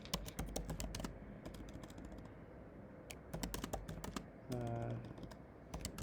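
Code typed on a computer keyboard in quick irregular bursts of crisp key clicks, close and fairly quiet, with brief pauses between runs and one short spell of a low hum.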